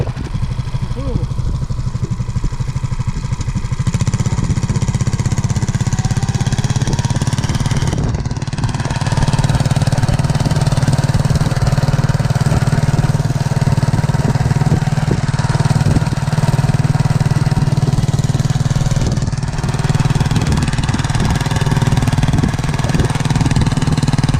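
A YuMZ tractor engine runs steadily during spring field cultivation, a loud, continuous low throbbing drone, close by, with brief dips in level.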